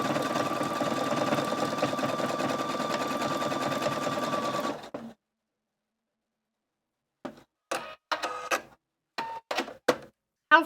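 A Viking Opal 670 sewing machine stitches decorative pictogram leaves in a steady close whir that stops abruptly, followed by silence and then several short bursts of stitching.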